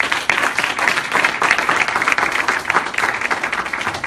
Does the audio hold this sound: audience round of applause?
yes